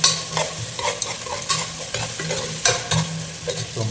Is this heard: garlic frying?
yes